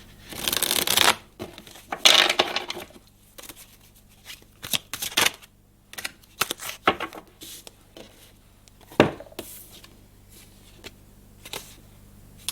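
Cards are shuffled for a card reading: repeated riffles and soft slaps come in short irregular bursts, close and quiet, with brief pauses between.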